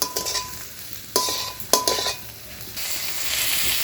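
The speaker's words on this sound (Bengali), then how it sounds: "এবার রসুন দিলাম।" Garlic goes into a wok of frying onion and ginger, giving a bright sizzle broken by a few quick spatula scrapes and clanks against the metal pan.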